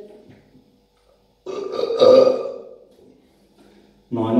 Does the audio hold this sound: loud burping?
yes